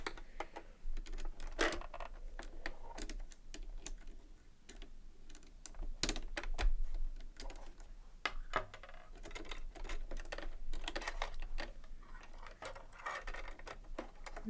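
Metal parts being handled and unscrewed while a presser foot and shank come off a sewing machine, giving close, irregular clicks, taps and small clanks with short pauses between them and no speech.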